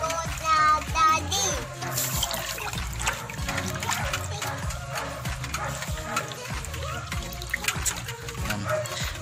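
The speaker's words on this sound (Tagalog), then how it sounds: "kailangan natin haluin yung tubig" Water mixed with hydroponic nutrient solution is stirred in a container, giving continuous sloshing and trickling. A voice and other talking are heard over it.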